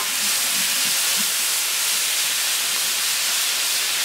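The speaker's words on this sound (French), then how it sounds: "Entre chaque cuisson, l'idéal c'est de déglacer la plancha." Steam hisses loudly off a hot plancha griddle as it is deglazed between batches of yakitori, a steady, close, continuous rush that lasts the whole stretch with no talking.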